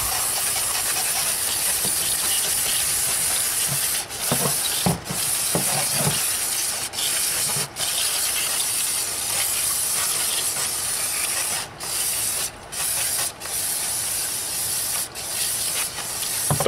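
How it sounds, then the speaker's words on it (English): Brake cleaner sprayed in long, loud hissing bursts for a final rinse of a BMW N55 oil filter housing, with short pauses between sprays and no talk. "It's just gonna do a final rinse with brake clean."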